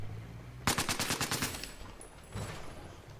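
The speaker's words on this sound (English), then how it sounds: "this is the SAR. It's a slow firing weapon." An SAR rifle in Battlefield 4 fires a quick burst of sharp, loud gunshots that ring out and fade, then a second, quieter shot follows.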